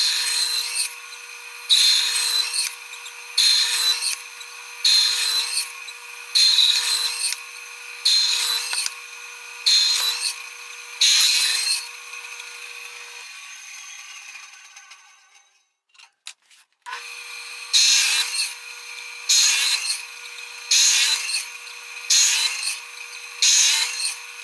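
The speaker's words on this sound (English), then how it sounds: "I'm going to turn the bandsaw on, and I'm just going to run through and see what happens." A bandsaw cuts a series of slots into a wooden featherboard, each pass a bright rasping burst over the steady motor hum. The saw runs cut after cut in a regular rhythm, winds down to near silence, then starts again.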